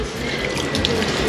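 A tap runs water in a steady, close splashing stream that holds at an even loudness throughout, with no voices.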